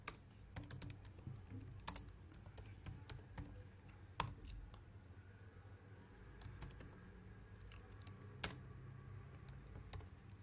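Computer keyboard typing, with irregular clusters of key clicks and a few sharper, louder strikes, close and fairly quiet, with no voices.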